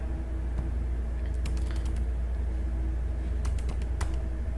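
A first name is typed into an online form on a keyboard: scattered light key clicks in two short clusters, heard over a constant low electrical hum.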